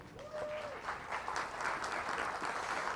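A live audience at a mind-games show breaks into applause, a dense steady wash of clapping throughout, with a brief tonal whistle near the start.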